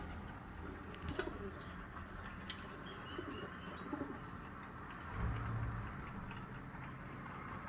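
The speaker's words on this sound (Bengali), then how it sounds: "কি সুন্দর সুন্দর পায়রা না?" Pigeons coo softly and repeatedly while pecking at scattered grain outdoors, with a brief flutter of wings and steady background noise around them.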